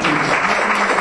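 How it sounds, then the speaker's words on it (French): A French community gathering thanks its volunteers as the audience applauds, a dense, steady wash of clapping filling the room for a full second without a voice over it. "On peut les applaudir."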